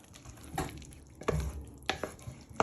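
A BBQ bean casserole is stirred in a pan, giving several soft, close scraping strokes in an uneven rhythm against a quiet background.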